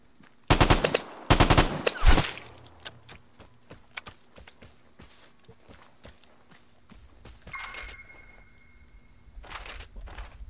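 Gunfire in the video game Vigor: two loud bursts of rapid shots near the start, then scattered single shots and faint clatter, with footsteps and ambient game noise continuing afterward.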